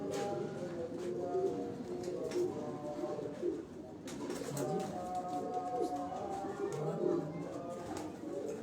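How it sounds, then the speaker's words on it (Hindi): Pigeons, including a golden pigeon, coo in a steady, continuous murmur throughout, with voices talking over and among the birds. "हाँ गोल्डन कबूतर है ना"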